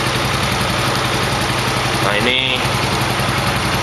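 A Yamaha Mio motorcycle engine runs close by with a steady, low, rhythmic chug, and a voice speaks briefly over it partway through.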